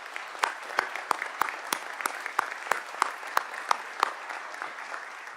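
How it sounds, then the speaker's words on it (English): Sparse applause from a board of education meeting audience, a dozen or so distinct, evenly spaced claps over faint room noise, fairly near and moderate in level. "So if we can just give everyone else one more round of applause."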